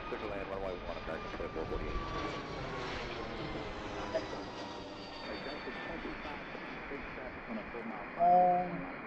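A JetBlue jet airliner departs Reagan National Airport, its engine roar steady and broad from a distance, with talk over it and a brief louder burst near the end.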